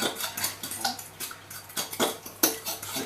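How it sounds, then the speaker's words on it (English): Pumpkin pie filling is mixed by hand in a bowl, with a utensil clinking and scraping against the dish in quick, uneven strokes, close and fairly quiet. "So I'll mix it all up."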